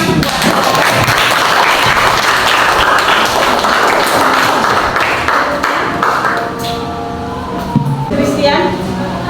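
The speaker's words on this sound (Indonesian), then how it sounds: "Oke, tepuk tangan." Students in a classroom clap together in a dense, loud burst lasting several seconds, then the clapping fades and a voice speaks.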